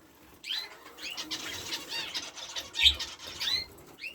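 Pet canaries fluttering and hopping inside a breeding cage, giving soft wing-flap bursts and a few faint chirps at close range.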